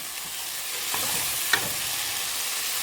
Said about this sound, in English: Your nice bright green celery going on here.